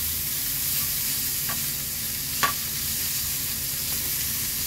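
Cabbage, mixed vegetables and half a tomato sautéing in a pan for a paneer dish, giving a steady, close hiss of sizzling with a couple of brief spoon-stirring clinks and scrapes, no voices.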